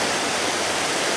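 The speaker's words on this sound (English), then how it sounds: "it almost looks like rapids because 117 has just been torn apart tonight as all of this water really has no place to go" Floodwater from a severe flash flood rushes like rapids over a torn-apart highway in Leominster, Massachusetts, a steady, loud, broadband roar of churning water with no voices.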